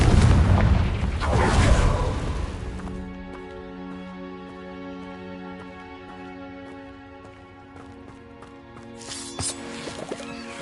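A Confringo fire spell blasting in Hogwarts Legacy: a loud, booming burst at the start with a rumbling tail, then a fading ring of tonal game effects over a few seconds and a smaller crackle near the end.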